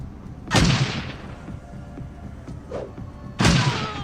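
Grenades detonating in Shadowrun Dragonfall, two sharp booming blasts about three seconds apart, each with a quickly fading tail, over quieter background game noise.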